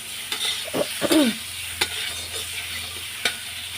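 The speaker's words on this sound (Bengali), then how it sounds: "তাই এই যে কষিয়ে নিচ্ছি" Turnip stir-fried in a pan for a fish curry: close scraping stirs and clanks of a utensil over a soft, steady sizzle, with a few sharp ticks.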